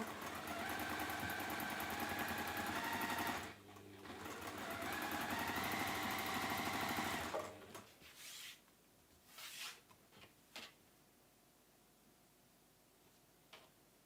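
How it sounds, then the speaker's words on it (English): Domestic sewing machine chain piecing quilt triangles, running in two loud steady whirring bursts, then stopping to a few faint clicks and handling noises. "I'm just chain piecing these triangles together."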